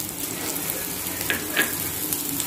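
Onions and chillies frying in a pan with cabbage for egg fried rice, a steady close sizzle with a few soft stirring scrapes.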